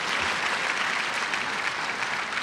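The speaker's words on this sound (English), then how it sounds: "One big round of applause for the council members." A crowd at a borough address claps for council members, producing a continuous, even roar of many hands with no voices over it.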